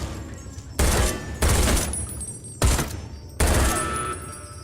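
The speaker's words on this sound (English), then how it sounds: "Oh, this is an automatic rifle." Automatic rifle in Fallout New Vegas firing four loud bursts of rapid shots, each sharp onset trailing into a ringing decay, spaced about a second apart with no talking.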